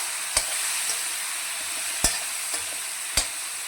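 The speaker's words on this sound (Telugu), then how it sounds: "మనం ఈ దోసకాయ ఈ వంకాయ ఈ టమాటా మొత్తం కలిపేసుకోవాలండి మొత్తం ఇలా కలిపేసేసుకోవాలి" Cucumber, brinjal and tomato frying together in a pan for a stuffed brinjal curry, a constant soft sizzle with three sharp utensil knocks as the vegetables are stirred.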